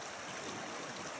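Soft, continuous rush of flowing stream water near Lake Louise, Banff, an even wash of sound with no voices.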